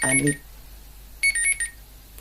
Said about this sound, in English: that's my alarm clock waking me up